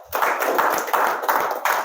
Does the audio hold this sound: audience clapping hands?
yes